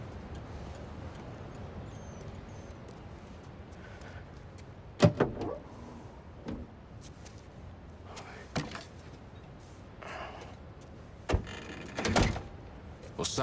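A car trunk is opened in the video game Spider-Man 2, with a couple of clunking latch and lid sounds standing out over quiet ambient background.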